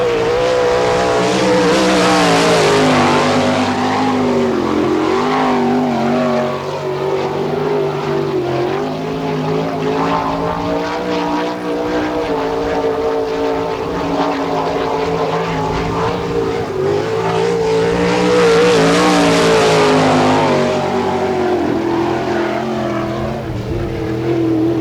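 Sprint cars roaring around the Barberville, Florida dirt speedway during an All Star Circuit of Champions Speedweek race, with loud, continuous engine howl that swells as cars pass close by, then fades and builds again.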